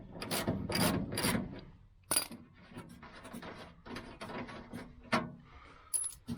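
Interior work on a 1972 Chevy Nova brings close metallic clicks, ratcheting and rubbing as a bolt is worked loose, in short uneven bursts with small taps and scrapes between them.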